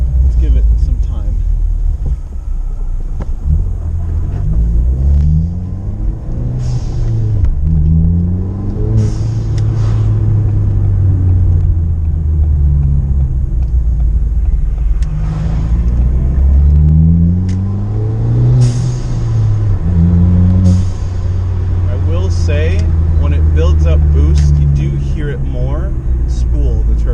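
A Ford Fiesta ST with a RamAir drop-in filter and stock turbo rolls along in first gear, its engine droning loudly and steadily with repeated rising and falling rev sweeps, while a person talks over it.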